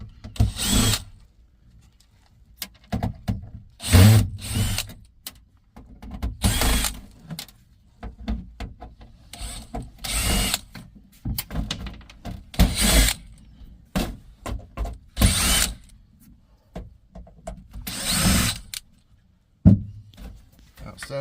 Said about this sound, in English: So let's go ahead and take the screws off.